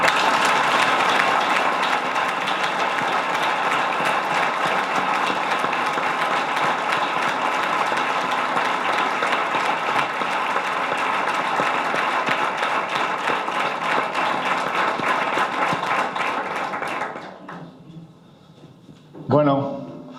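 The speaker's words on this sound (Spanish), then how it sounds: "una ovación por ello." Dense, loud ovation from an audience at a presentation of a bullfighting magazine, sustained clapping that fades out near the end, followed by a brief burst of voice.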